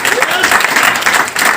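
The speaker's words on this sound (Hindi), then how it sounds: "जबरदस्त ताली हो जाए सर" A seated audience at a leaders' testimonial event in Faridabad applauds, steady dense clapping filling the short moment at close range, with a voice faintly mixed in.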